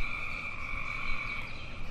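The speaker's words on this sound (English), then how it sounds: "Is it an enemy? Giant toad." A giant toad enemy in a first-person video game croaks continuously, a steady buzzing drone over low rumbling background noise.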